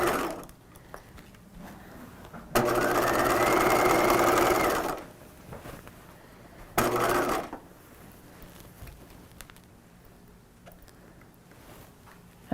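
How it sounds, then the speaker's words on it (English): A sewing machine runs two bursts of stitching along the underarm seam of a 1950s-style shelf bust dress, a steady whirring run of about two seconds and then a shorter one, with quiet handling noise between them. "we're going to continue stitching along the underarm"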